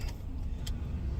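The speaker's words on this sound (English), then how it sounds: "Obviously, his truck needs a tune-up." A truck engine in need of a tune-up runs with a low, steady rumble, fairly faint and unbroken, with a couple of brief light clicks on top.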